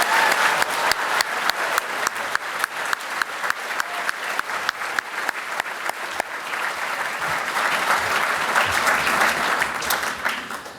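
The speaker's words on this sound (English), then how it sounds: "Can we have one more round of applause for all our award winners this evening?" An audience at a college graduation ceremony gives award winners a long round of applause, dense steady clapping filling the hall and continuing for about eleven seconds without speech.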